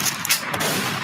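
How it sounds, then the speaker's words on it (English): Rapid burst of gunshot sound effects played during a casual podcast, a quick crackle of several sharp reports over about a second, loud and close with no speech over it. "All these gunshots, we do sound like Americans"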